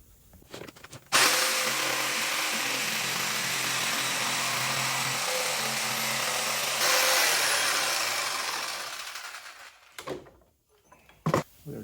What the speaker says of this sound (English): since I want to get this done and I'm only cutting 3 holes, I'll just use a jigsaw